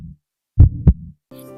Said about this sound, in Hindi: रमेश का दिल डर के मारे जोर जोर से धड़कने लगा।